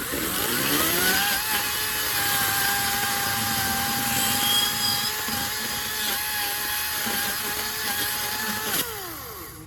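A chainsaw cuts through a strong tree trunk in a yard, its engine screaming loud and close in a sustained, slightly wavering whine with small pitch dips under load, easing off near the end.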